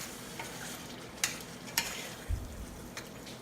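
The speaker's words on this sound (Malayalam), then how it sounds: "ഇനി ഇത് നന്നായി ആ എണ്ണയും ആയിട്ടൊന്ന് മിക്സ് ചെയ്യണം." Pre-cooked liver is stirred in hot oil for a liver fry, a steady low sizzle with a few sharp scrapes of the spoon against the pan, close and without speech.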